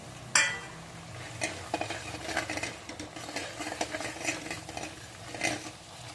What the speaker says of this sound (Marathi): छान असं तेल सुटेपर्यंत मस्त असं परतून घ्यायचं आहे मसाला